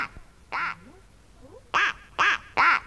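A duck quacks four times, once, then after a pause three loud, close quacks in quick, even succession, with no talking.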